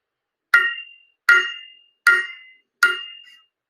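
Four evenly spaced taps of a plastic pencil on the bottom of a small household bell, each a sharp, bright clink with a short ringing tail, close up and alone in silence.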